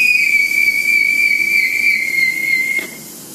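A steady, piercing whistle-like tone from a guitar implement swung around to make a sound sculpture, sustained and loud before cutting off near the end, leaving faint hiss.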